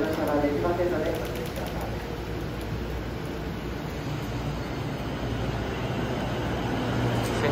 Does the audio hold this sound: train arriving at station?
yes